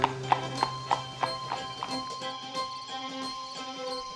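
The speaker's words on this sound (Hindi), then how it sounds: "घोड़ा गाड़ी की सवारी कर कर आ रहे हैं" Horse hooves clip-clop in a steady rhythm as a horse-drawn carriage arrives, the sharp, evenly spaced strikes close and clear at first, then continuing more softly over a faint sustained tonal background.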